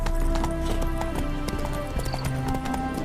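Horse hooves clip-clop in a quick, steady rhythm from Roach, the mount in The Witcher 3 video game, close and fairly loud over a soft music and ambient bed.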